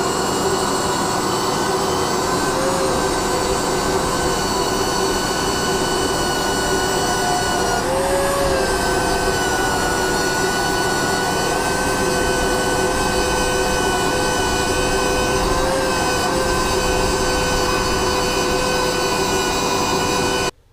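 A power sander runs continuously on a car body with a loud, steady whine and grinding hiss, shifting pitch slightly as it works across the surface.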